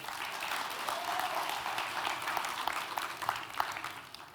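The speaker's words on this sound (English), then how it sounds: "You could clap if you wanted" Applause from a conference audience, steady clapping of moderate loudness from a room full of people, carrying on for several seconds.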